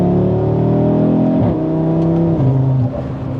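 Audi RS3 accelerating hard, a loud close engine roar that climbs in pitch, dips briefly at two gear shifts and rises again, with no talk over it.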